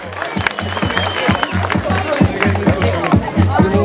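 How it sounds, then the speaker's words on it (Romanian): A crowd at an amateur K-1 kickboxing tournament in Hîncești, Moldova, applauds with steady clapping, mixed with cheers and murmuring voices throughout. "Aplauze pentru această lovitură frumoasă de întoarcere a lui Igor."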